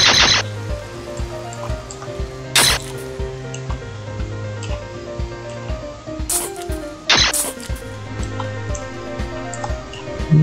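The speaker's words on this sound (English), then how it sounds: "Now we're getting the rain sounds." Rain falling in Minecraft, a steady wet patter layered over a repeating game music loop, with a few sharp bright bursts breaking through the rainfall.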